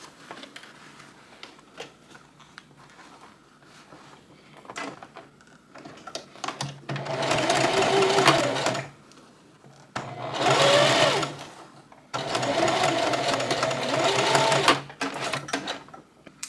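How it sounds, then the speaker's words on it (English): Sewing machine stitching bias tape in a small apartment sewing room, running in three steady, close bursts of rapid mechanical hum and needle chatter, with quiet handling sounds between runs. "And we're going to start sewing from here."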